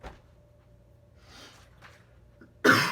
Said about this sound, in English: I'm really sorry that I keep coughing.